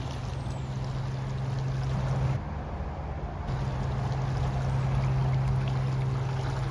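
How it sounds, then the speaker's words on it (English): A continuous rushing wash of the fast-flowing Yakima River, steady and full, with a low hum underneath and no talking. "The river is fast flowing, but the sound of it is soothing balm for a restful night."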